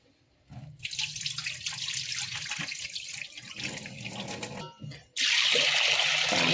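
Water pours into a cooking pot while making Odisha-style rohu fish jhuk jukia with salt and turmeric, a steady rushing splash that pauses briefly near the end, then returns louder and brighter.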